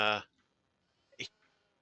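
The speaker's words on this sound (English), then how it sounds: "This sheep has evidently taken up smoking cigars and having a human face to smoke them out of." A cigar-smoking, human-faced sheep in the video game Shadows Over Loathing gives a loud, harmonic bleat right at the start, then one short, fainter bleat about a second later; there is quiet between them.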